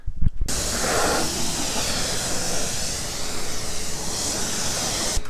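An air compressor fills an IK Pro 12 foamer, giving a loud continuous rushing hiss of pressurised air held close for several seconds after a short initial burst.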